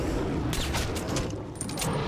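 Muffled gunshots from Metro Last Light Redux pop in a quick cluster over a steady noisy background in a marsh area, brief and moderately distant.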